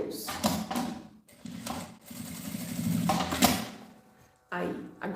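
A sewing machine runs a straight seam on a fabric pencil case in short, whirring bursts separated by pauses, close and fairly loud, with a final burst starting after a brief silence.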